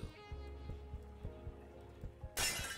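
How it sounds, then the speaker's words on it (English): Window glass shatters in a video game: a sudden loud bright crash near the end, following a stretch of low repeated thumps and game hum. "I broke the window."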